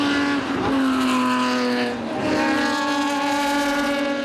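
Race cars lap the track during a 54-car endurance race, a loud near engine howl sweeping past and fading as a second car follows on with a sustained tone.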